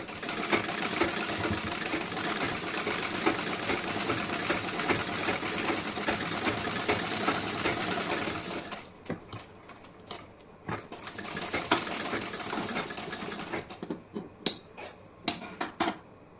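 A sewing machine runs steadily while stitching a blouse, a continuous mechanical whir for about nine seconds, then shorter stop-start bursts with faint clicks and pauses between runs.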